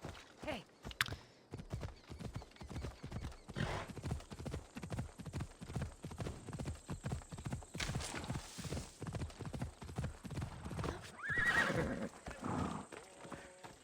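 Horse hooves clip-clop in a steady walking rhythm throughout, with a horse neighing loudly near the end, heard in the setting of a video game.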